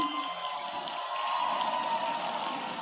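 Steady audience applause fills a large church gathering in Accra, Ghana, a dense continuous wash of many hands that holds evenly throughout with no break.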